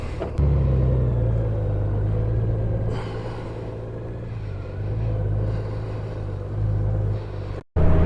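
A Honda Gold Wing DCT Tour motorcycle rides on an open road on a calm, windless day, its engine a steady low rumble with gentle swells as it accelerates, close and continuous.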